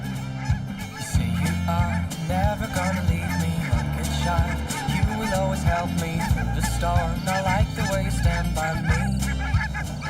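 Geese honk repeatedly and loudly around a microlight aircraft in formation flight over the Planèze plateau near Saint-Flour, the calls layered over a steady low engine drone.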